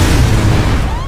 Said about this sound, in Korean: 착륙을 시도하던 힌덴부르크호는 원인 모를 사태로 폭발하고 말죠